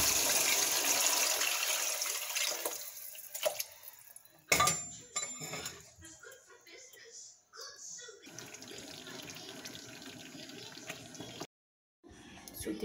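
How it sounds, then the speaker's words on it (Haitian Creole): Water is poured into a cooking pot for a corn and okra dish, splashing and running in uneven bursts, with occasional clinks of pots and utensils and a voice talking at times. "On va mettre de l'eau."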